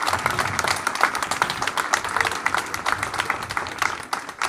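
An audience applauds at a French gathering about a police killing, producing dense, steady clapping from many hands that swells and fades slightly over a few seconds, with crowd noise underneath.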